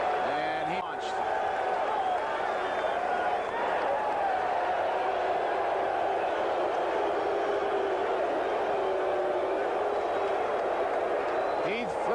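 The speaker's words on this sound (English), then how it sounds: "the crowd reacting" Baseball stadium crowd at the 1981 ALCS Game 2, a steady distant roar of many voices continuing throughout with a broadcaster's talk over it.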